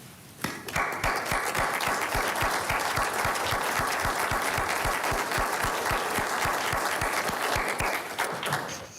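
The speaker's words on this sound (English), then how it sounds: "would you please join me in a round of applause for their achievement" Sustained applause from the audience at a county board of supervisors meeting, with a steady rhythm of individual claps running through a dense, even wash of clapping from start to finish.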